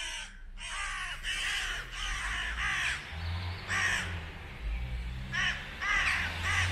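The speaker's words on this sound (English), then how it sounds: "Look at that crow there." Several crows caw loudly and persistently in a series of harsh calls, squabbling in a cemetery in Wombwell, UK, with no talk over them.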